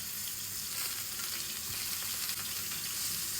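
Food sizzles steadily in hot oil in a pan, cooked as a grill-style alternative to a tandoori grill; the close, continuous crackle holds an even level throughout with no talking.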